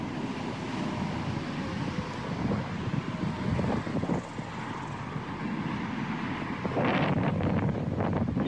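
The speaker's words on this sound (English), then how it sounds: "It was windy out there that day." Gusty outdoor wind buffeting the microphone in a continuous low roar that swells and dips, with a stronger rumbling gust near the end.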